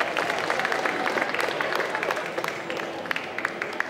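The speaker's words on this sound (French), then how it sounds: "On peut l'applaudir très très très fort." A Disney concert audience at a geek convention claps steadily, a crowded patter of hands that holds at an even level throughout.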